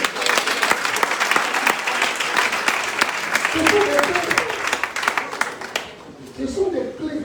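Church congregation applauding together to acclaim Jesus Christ, a dense burst of clapping with cheering voices that fades toward the end.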